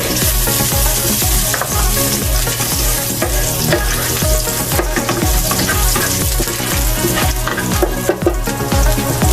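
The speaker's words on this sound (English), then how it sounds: "Using the same pan and oil, we're gonna be sauteing the rest of our ingredients" Garlic sautéing in oil in a pan, a continuous close sizzle with stirring, set against a steady rhythmic beat of background music that dominates throughout.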